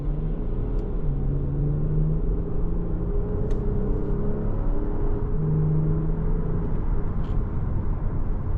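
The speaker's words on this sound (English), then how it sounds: "Sounds like a healthy V6." Steady engine hum of a 2021 Lexus ES 350's V6 while driving, a continuous low rumble with faint whirring that holds even throughout, heard from inside the cabin with no talking.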